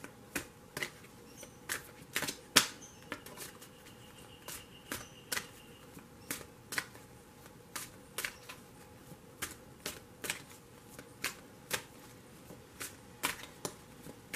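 Tarot cards being shuffled by hand, a run of crisp, quiet riffling snaps and flicks in an irregular rhythm, close and isolated with no talking.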